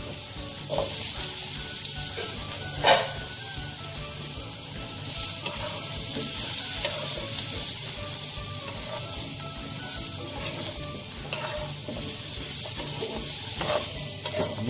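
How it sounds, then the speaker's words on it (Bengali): Potatoes fry in oil with turmeric and salt, a continuous close sizzle broken by occasional spatula stirs and one louder clatter, with no voices. "হালকা একটু হলুদের গুঁড়া আর একটুখানি লবণ দিয়ে আমরা আলুগুলাকে ভেজে নিচ্ছি।"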